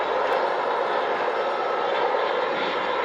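A BNSF GE ES44AC diesel locomotive runs on a joint line in Colorado, giving a steady, dense broadband rumble that holds evenly throughout, with no speech.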